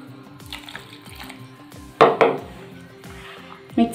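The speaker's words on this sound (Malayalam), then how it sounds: "രണ്ടാമത്തെ കപ്പ് വെള്ളം കൂടി ഒഴിക്കാം." A second cup of water is poured into rice flour for a sweet paal kozhukkatta dough, giving a short splashing gush followed by a smaller splash, heard over a steady tonal background.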